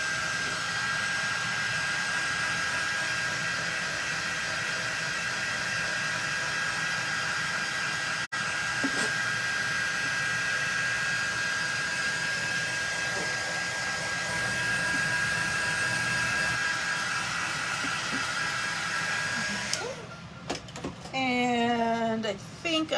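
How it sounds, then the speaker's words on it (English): A handheld hair dryer blows a steady, loud airflow hiss while drying a Santa's mailbox craft, running continuously for about twenty seconds before cutting off as a voice begins to speak. "I'm going to hit it with my dryer."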